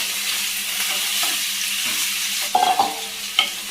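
Jackfruit pieces fry in hot oil with turmeric, a steady sizzle with a few sharper stirring clatters near the end, close and alone without talk.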